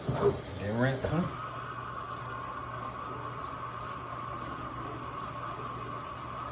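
Cold tap water runs steadily over strained noodles in a sink, a constant close rushing hiss, with a brief voice over the flow at the start.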